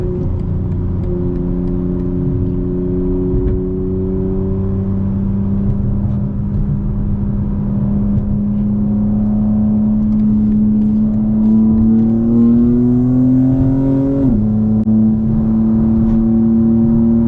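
A 2025 BMW M4 Competition engine pulls steadily under acceleration on city streets, a sustained rising drone that climbs in pitch around the twelve-second mark, then drops sharply with a gear change and settles again, heard close and loud with no talking.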